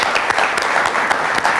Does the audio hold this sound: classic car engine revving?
no